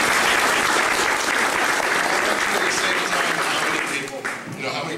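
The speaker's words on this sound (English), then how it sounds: "I think we got to give him a round of applause." An audience at a candidates' event gives a loud, steady round of applause that holds for several seconds before tapering slightly at the end.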